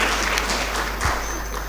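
Audience applause for two lecture speakers at a university humanities lecture, a steady wash of clapping that carries on evenly through the whole short stretch with no voices.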